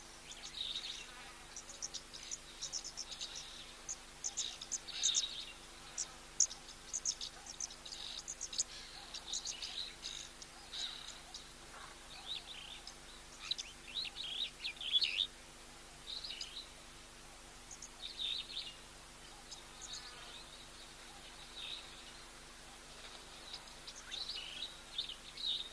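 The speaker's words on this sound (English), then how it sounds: "So gone a little bit quiet here, apart from all the insects and the birds." Insects buzz and chirp steadily at a waterhole, with scattered bird calls and chirps mixed in throughout, all soft and fairly distant, with no talking.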